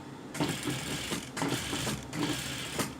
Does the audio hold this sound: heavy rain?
no